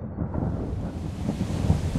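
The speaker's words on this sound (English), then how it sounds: "Ah, I love a good storm." Thunderstorm in the medieval game Kingdom Come: Deliverance, a low rolling thunder rumble over steady rain, continuous and fairly loud with no voices.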